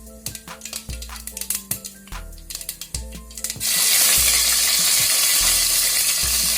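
Sharp popping and clinking of mustard seeds in hot oil gives way to a sudden loud, steady hiss as curry leaves are dropped in and fry, the sizzle continuing to the end.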